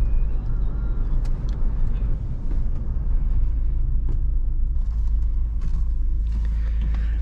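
A Mahindra Scorpio S11 SUV cruising on a highway, heard from inside as a constant deep engine and road rumble with steady tyre noise and no clear speech.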